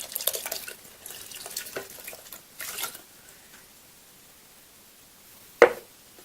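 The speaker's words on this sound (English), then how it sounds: "So I'm going to go ahead and pour it and add it to the mixture." Liquid poured into a home-brewed strawberry gingerade mixture, a few seconds of soft trickling and splashing that tapers off, followed by quiet and one sharp clink or splash near the end.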